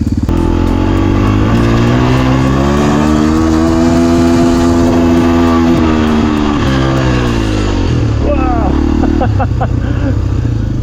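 A beginner dirt bike climbs uphill on the throttle. The close, loud single-cylinder engine note holds and rises steadily, then eases off near the end as a voice talks over it.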